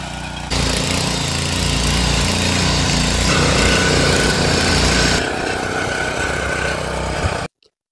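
An iMek power weeder's engine running steadily, a loud close droning rumble with constant vibration that holds for about seven seconds before cutting off abruptly into silence.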